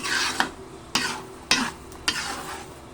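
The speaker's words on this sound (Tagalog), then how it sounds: "So, haluin lang natin." A no-bake macaroni mixture is stirred in a cooking pot, making four evenly spaced scraping strokes over a soft sizzle, close and alone with no talk.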